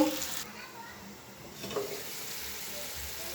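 Spice paste sizzles softly in a pan as it is stirred and fried for a dried-fish and taro-stolon curry, a faint, steady frying hiss with light scraping, fairly quiet and continuous.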